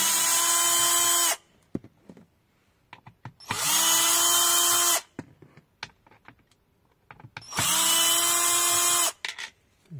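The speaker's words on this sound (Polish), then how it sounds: "Z T25 odkręcam te 4 śrubki." Power screwdriver with a T25 bit removing four screws from the lower cover of a Ford Edge steering wheel, three loud sustained whirring bursts separated by short pauses with small clicks and handling noises.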